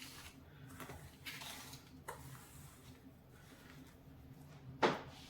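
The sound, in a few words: mixing semolina into cake batter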